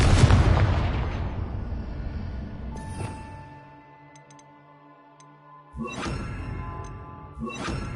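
A Confringo blasting spell explodes in Hogwarts Legacy with a loud, rumbling boom that fades over a few seconds, followed by quieter ringing tones and then two more sharp bursts near the end.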